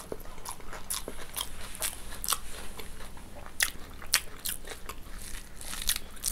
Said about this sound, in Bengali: আজকে ঘি দিয়ে আলু ভর্তা খাইতেছি